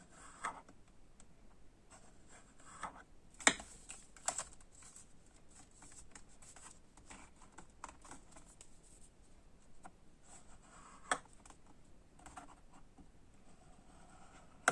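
Paper being creased along the score lines of a punch board, a steady faint dry scratching and rubbing with occasional small taps and clicks, close and quiet with no voice.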